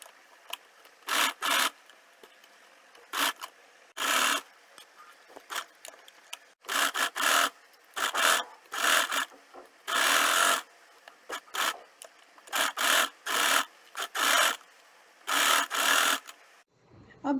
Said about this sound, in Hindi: अब इसको मशीन से सिलाई करेंगे